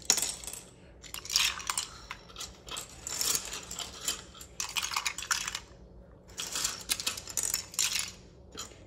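Plastic keyboard keycaps from an Apex Pro TKL being dropped into a cleaning solution: repeated clattering bursts of small pieces tumbling and clicking together, fairly close, with short pauses between handfuls and no talk.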